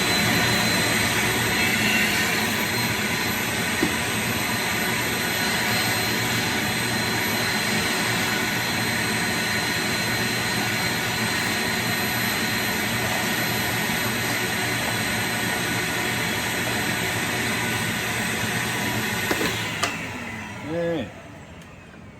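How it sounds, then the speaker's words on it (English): A vacuum cleaner runs in a workshop while a power entry module is being installed, a loud steady whine and roar that holds for about twenty seconds before cutting off near the end. "Get this vacuum cleaner going again."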